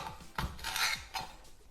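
A kitchen knife cuts a large green bean into pieces on a board, giving several close, crisp chopping knocks with a scraping rasp between strokes; no one speaks.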